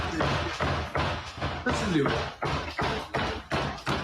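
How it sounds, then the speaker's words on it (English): Heavy repeated thuds on a door in a scary video playing back, about a dozen regular bangs under a voice talking briefly. "Because that much banging on a door, that door would be moving quite a bit."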